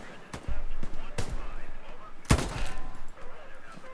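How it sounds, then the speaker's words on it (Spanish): Gunfire in the World War II shooter Hell Let Loose at the Omaha Beach bridgehead: scattered sharp shots crack out at intervals, with one heavier, louder burst midway, over a steady background of battle ambience. "Disparos desde detrás del deflector"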